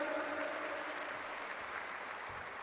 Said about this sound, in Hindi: हिंदुस्तान के सर के ताज जम्मू कश्मीर के लिए जोरदार तालियां।